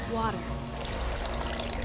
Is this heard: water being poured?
yes